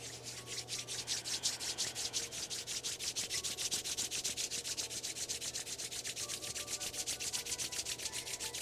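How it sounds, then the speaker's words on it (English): Palms rubbing briskly together during a yoga session, a steady close swishing friction that repeats in quick even strokes throughout, with no talking. "Rub your palms together."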